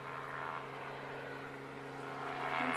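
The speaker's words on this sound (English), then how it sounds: "somebody's getting a helicopter ride. You can hear it." A helicopter flies somewhere overhead near a bayside park at Bowditch Point, Fort Myers, Florida, its steady low engine drone and rotor hum holding even throughout, swelling slightly toward the end with no talk.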